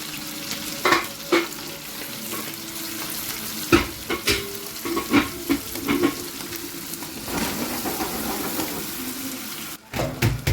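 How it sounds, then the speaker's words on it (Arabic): Liver, brain and kidneys fry in ghee with a constant bubbling sizzle, broken by repeated scraping and clanking stirs of a utensil in the pan, close and fairly loud. "ده كده بقبق بقليلي. بيبقبق بقليلي عشان هو فيه نسبه دهون فبيعمل مع السمنه البلدي بيعمل الرغاوي دي"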